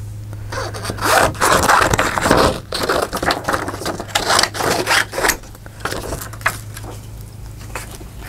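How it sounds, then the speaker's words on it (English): Scissors cutting through crafting material with crisp snipping, rustling and scraping strokes over several seconds, close and fairly loud, with a low steady hum underneath. "Don't look, I'm going to cut it."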